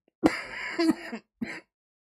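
A person alone at a desk late at night gives a rough, wet cough and then a shorter second cough, both close and fairly quiet, followed by silence.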